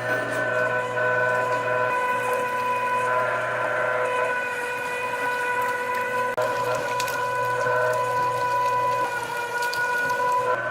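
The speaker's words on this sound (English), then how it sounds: "On the grinder and start feeding it down through there." A meat grinder grinds meat for sausage, producing a loud, continuous motor whine with steady tonal hum and grinding texture throughout, close and unbroken.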